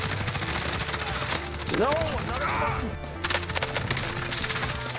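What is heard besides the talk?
gunfire in a video game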